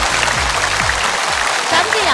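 Studio audience applause at a television variety show welcomes a guest on stage, a loud steady wash of clapping with music underneath.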